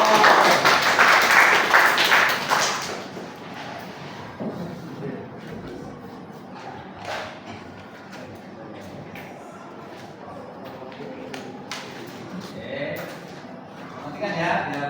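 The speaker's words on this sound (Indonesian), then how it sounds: "Kita beri tepuk tangan untuk dia." A classroom of students claps for a classmate during a teacher-training practice lesson: a dense burst of applause for about three seconds, then it fades into room noise and scattered sounds while someone talks.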